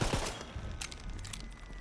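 Rapid automatic gunfire from a hard-to-control gun in the video game Tiny Tina's Wonderlands, a dense, loud burst of overlapping shots running through the whole moment with busy game effects behind it.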